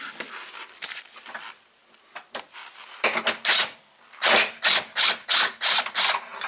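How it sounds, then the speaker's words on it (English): A breaker bar with a ratchet loosening a bolt on a 1991 Audi 200 Quattro 20V Turbo: quick bursts of ratcheting clicks, then a steady run of loud, evenly spaced ratchet strokes close by. "Let me get a breaker bar."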